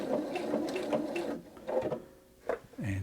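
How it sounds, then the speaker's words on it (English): A Pfaff Quilt Expression 720 sewing machine whirs in a quick mechanical chatter of stitches as it ties off, stopping briefly, then giving a short whir and a motorized trim sound at the end. "just hit the tie off button"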